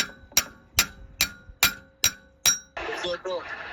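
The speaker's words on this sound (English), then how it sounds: "So you can use the good old manual hammer." Seven sharp metallic hammer strikes on the clutch fan nut of a 12-valve Cummins engine ring out in a steady rhythm, close and loud, followed by a brief burst of hissing noise.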